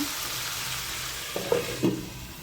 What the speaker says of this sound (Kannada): ಈಗ ಇದು ಚೆನ್ನಾಗಿ ಫ್ರೈ ಆಗಿದೆ